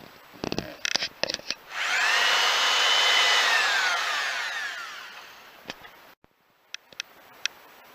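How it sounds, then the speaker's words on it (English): A drill whines steadily for about four seconds, close by, boring into plastic pipe, preceded and followed by sharp clicks and handling knocks. "we're going to drill the white pipe and the black pipe"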